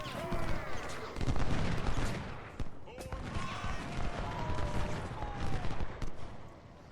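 Rolling musket volleys and scattered rifle shots crackle across a Civil War battlefield in the Ultimate General: Civil War strategy game, steady and dense under game music, with someone talking over it.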